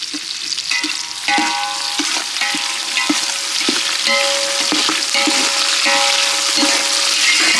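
Shallots and fresh curry leaves frying in hot oil in a village kitchen, with a steady close sizzle and crackle broken by repeated scraping stirs of a spatula against the pan.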